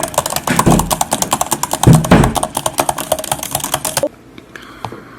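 Rapid, crisp keyboard clicks from a 2020 16-inch Apple MacBook Pro rattle close up for about four seconds, then stop abruptly, leaving quiet room noise.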